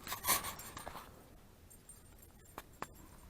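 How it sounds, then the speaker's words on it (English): A small dog in pajamas at a campsite makes a brief, sharp vocal burst near the start, followed by a few faint clicks and shuffles in a quiet space. "That's the wife's dog."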